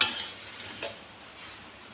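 Spicy bamboo shoots and chicken offal stir-fried in a pan, with a soft steady sizzle and faint scraping stirs, quiet and continuous with no talking.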